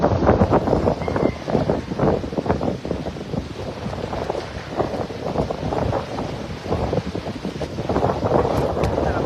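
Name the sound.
strong wind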